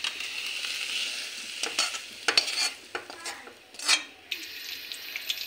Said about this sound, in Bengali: তেলটা গরম হয়ে গেছে, আমি ওগুলা এখন ভাজা করে নেব